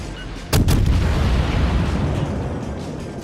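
A single heavy boom of Bismarck battleship gunfire in World of Warships, loud and close, then a long rumbling decay.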